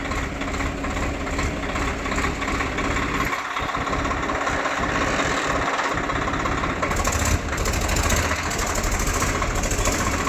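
A Swaraj 855 tractor engine runs steadily and loudly at close range with the brakes held, a continuous throbbing drone with a slight lift in intensity toward the end and no talk.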